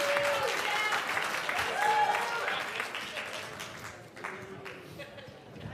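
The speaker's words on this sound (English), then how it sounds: "Let's give Jim one more round of applause" Audience applause at a CPA Masque show, a steady round of clapping from a crowd with some voices and cheers mixed in, gradually thinning toward the end.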